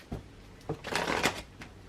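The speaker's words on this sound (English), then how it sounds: "I'm just going to shuffle the deck." A deck of tarot cards shuffled up close, several quick riffling bursts and soft card slides over about two seconds, quiet and without talk.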